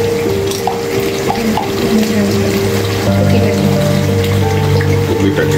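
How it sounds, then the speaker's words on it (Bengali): Desi ghee goes into a pot of cooking beef rezala, a loud steady sizzle and bubbling with stirring sounds, close up and continuous, no talking. "পরে এখন দিয়ে দেবো আমরা দেশি ঘি।"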